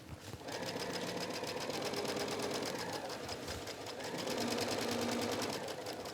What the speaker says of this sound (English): make the length of the stitch a little bit longer, and then you just start sewing